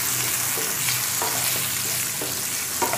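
Chopped onion and tomato fry for a dhaba-style egg masala curry, with a loud continuous sizzle and occasional scrapes from stirring close by.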